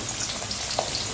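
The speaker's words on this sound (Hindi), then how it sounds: "इन्हें हल्का हल्का ब्राउन होने तक हम इन्हें भून लेंगे।" Chopped onions frying in a kadhai, a steady close hiss of sizzling oil that holds evenly through a short moment, with no voices.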